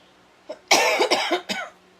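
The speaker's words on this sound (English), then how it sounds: "I will be coughing a little bit" A person recovering from a cold coughs a few times in quick succession: short, harsh, close bursts heard on their own.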